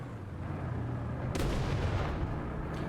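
In War Thunder, a steady rumbling din of tank battle, then a sudden heavy blast from a tank shot with a burst of broadband noise, followed by a second, fainter bombing boom near the end.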